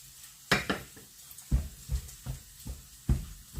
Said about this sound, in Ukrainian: І це ми будемо смажити на великому вогні.